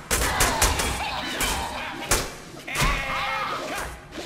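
Gunfire from a weapon in the Deadpool video game, a rapid string of loud close shots and thumps, with someone talking in between.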